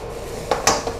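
Fried rice with prawns and XO sauce being tossed and roasted in a pan, with a few distinct metallic scrapes and clatters of utensil against pan over a low steady background, fairly close.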